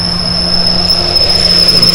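A train rolling along railway tracks in Pine Pass, steady and continuous with a constant hum and faint metallic squeal, no talking.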